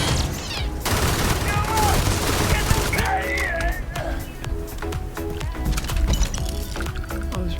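Shots from a weapon in Starfield ring out in rapid, repeated bursts, loud and close, with a person talking over parts of the gunfire.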